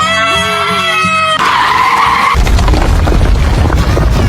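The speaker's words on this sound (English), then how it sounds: "The bus lost control, speeding dangerously." An out-of-control speeding bus skids across the road in a cartoon scene, a sharp screech giving way to a heavy roaring rumble, loud and sustained, following a brief voice and musical tones.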